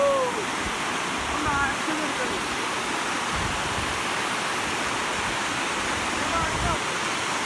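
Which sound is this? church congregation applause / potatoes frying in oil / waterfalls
waterfalls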